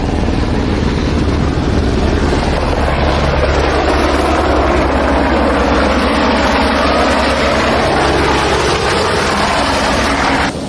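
A helicopter runs up for a ride over mountains, its dense, loud, continuous engine and rotor roar steady throughout and close by, with no talk.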